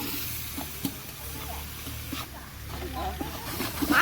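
Village-style biryani being stirred and fried in a large pot with ginger and garlic, a steady sizzle with scraping stirring strokes and occasional clanks, voices talking faintly over it.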